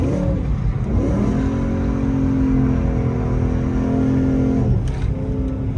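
BMW M3 E90 engine revving under throttle while driving, rising to a sustained strong tone, then the revs dropping off before climbing again, loud and close with no talk.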